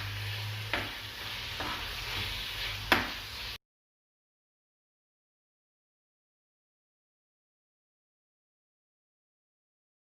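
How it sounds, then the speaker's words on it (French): Diced chicken escalope tipped into a pan of softened onions and stirred, a soft sizzle with a few scraping stirs and one sharper knock for about three seconds before the sound cuts to silence. "Une fois que nos oignons sont un petit peu cuits, on rajoute notre petite escalope coupée en petits morceaux."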